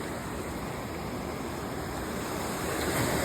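Sea water washing onto a clean beach, a continuous close rushing surf that swells slightly toward the end, with no voices.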